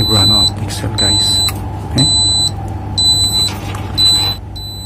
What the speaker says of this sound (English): we're going to fix DA alarm of Dixell and with annoying sound